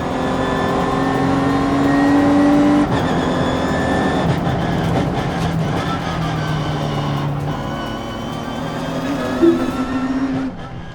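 Vauxhall Zafira pushed hard through the last corners of a race track, its engine loud and close as it holds high revs, with pitch dipping and rising through gear changes and corner exits.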